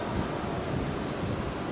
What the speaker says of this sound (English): JetBlue 1484 is taking active runway 23 right.